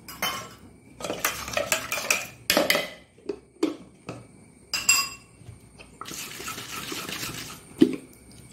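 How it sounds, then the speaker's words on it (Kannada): Carrot neer dosa batter stirred in a metal vessel, giving repeated scraping and clinking strokes of a spoon against the pot in uneven bursts, close and fairly quiet, with no talking. "ಚೆನ್ನಾಗಿ ಇದನ್ನು ಗಂಟಿಲ್ಲದ ಹಾಗೆ ಕಲಸಿಕೊಳ್ಳಿ"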